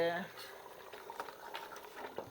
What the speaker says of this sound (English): You can carry on, let it boil, because it'll just soften the meat even more